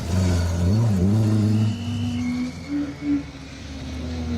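A rally car drives through a stage of a circuit rally, its engine roaring loudly at first and then fading as it passes, with a rising-and-falling engine note.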